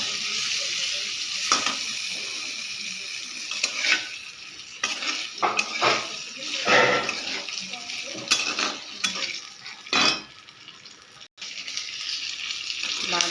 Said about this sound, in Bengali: হালকা করে বাদামটা ভেজে নেব